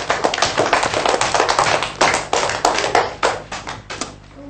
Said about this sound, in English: Class, give them a big clap